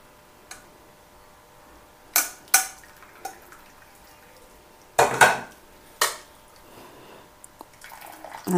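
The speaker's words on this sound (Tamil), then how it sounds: "இப்போ நம்ம இது வந்து வடிகட்டிக்கலாம்." A boiled herbal decoction is strained through a metal strainer in a kitchen, with a few sharp metallic clinks and clanks at irregular moments over quiet background and no talking.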